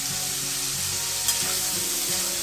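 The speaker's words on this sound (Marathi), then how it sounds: "कांद्याला थोडं जास्त तेल टाकायचं त्यामुळे कांदा छान परततो" Chopped onion sautéing in a generous amount of oil, a steady loud sizzle throughout with a few soft stirring scrapes and one brief sharper spit near the middle, no talking.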